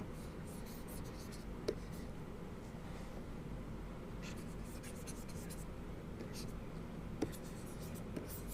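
Chalk or marker writes on a board during a lecture, giving faint scratchy strokes in short bursts over a steady room hiss, with a couple of small taps.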